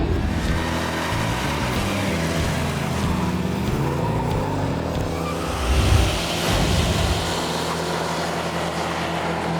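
A 1971 Ford Mustang Boss 351 V8 muscle car drives with a steady, loud, rumbling engine note that swells briefly as it revs harder partway through, then settles back into a continuous drone.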